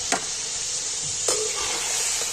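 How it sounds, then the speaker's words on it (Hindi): Chicken fries with ginger in a pan, giving a steady close sizzle broken by two sharp scraping stirs, no voices. "हमारी चिकन अच्छी तरह से अदरक के अंदर फ्राई हो गई है"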